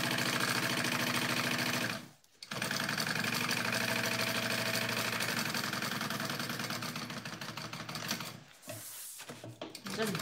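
A sewing machine stitches the edges of a bag pocket in a fast, even mechanical chatter, running steadily with two brief stops and then resuming.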